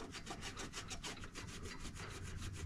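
Old gasket material being scrubbed off a small riding-mower engine, helped by isopropyl alcohol, in rapid, steady back-and-forth rasping strokes, close up and continuous with no voices.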